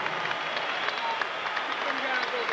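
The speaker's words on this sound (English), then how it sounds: "let's have a round of applause for these two heavyweights" An arena crowd at a heavyweight boxing match in Atlantic City applauds the two fighters after twelve rounds, a continuous distant roar of clapping and cheering that sits under a voice talking.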